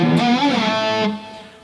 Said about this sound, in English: So the rising slide is counteracted by the pushing down of the tremolo